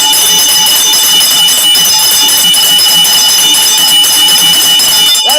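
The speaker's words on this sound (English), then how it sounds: "let me ring the bell for y'all" A bell rung steadily by hand, its bright repeated tones and ringing overtones sustained loudly throughout with no pause, heard alone without talk.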